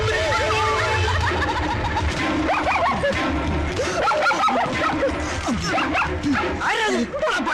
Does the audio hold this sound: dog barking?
yes